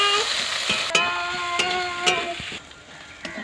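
Sliced onion with split green chilies, garlic paste and ginger paste fries in a pan with a loud steady sizzle, broken by a few sharp clinks and scrapes of the stirring spoon.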